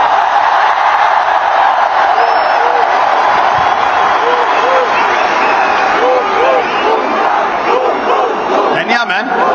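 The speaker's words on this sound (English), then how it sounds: "A huge round of applause to Jasprit Bumrah" A dense cricket crowd roars, cheers and applauds for Jasprit Bumrah in a loud, unbroken wash of massed voices that sounds close and continuous throughout.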